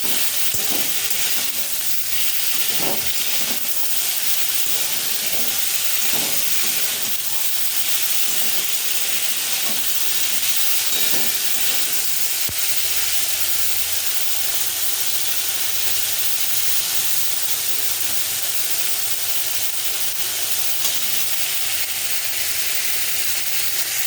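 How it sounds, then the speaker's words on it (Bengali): White potato curry frying in a pan gives a loud, continuous sizzle and hiss, broken early on by several scraping stirs of a spatula, heard up close with no talking. "এবার এটাকে ভালো করে লাল লাল করে আগে ভাজবো, তারপরে জল দেবো।"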